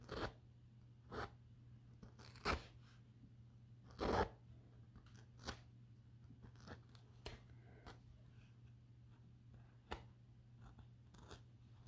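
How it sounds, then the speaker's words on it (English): Seam allowance at the bottom of a zip pocket on a bucket tote being unpicked: a string of short, quiet snips and ticks, irregularly spaced with a few louder clicks, over a steady low hum and no talking. "it's time to unpick that seam allowance there in the bottom of the zip pocket"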